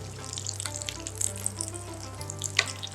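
Potatoes frying in a pan for vada pav give a steady, low sizzle with soft watery crackles and a few sharper pops, close and fairly quiet, with no talking.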